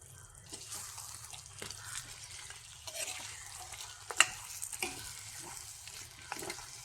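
Chicken curry is stirred in a pot, giving soft, irregular scrapes and knocks of a spoon over a faint simmering hiss, close but quiet, with one sharper clink midway.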